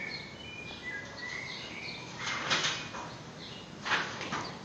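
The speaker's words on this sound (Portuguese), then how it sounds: "Agora o passarinho tá cantando" A caged bird sings faint, scattered high chirps and short trills against a quiet background, with a couple of louder bursts near the end.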